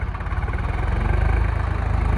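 A tractor engine idling in a field being prepared with a rotavator for okra planting, a steady low mechanical rumble with a pulsing beat, loud and close, with no voices.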